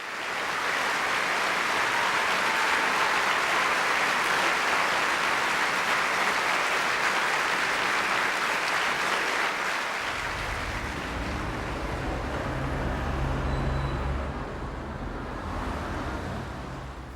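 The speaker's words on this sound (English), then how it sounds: "and we applauded, and all of us cried" A large audience applauds at length after a ballet performance, a dense, sustained wash of clapping that continues loudly before gradually thinning toward the end, with no speech.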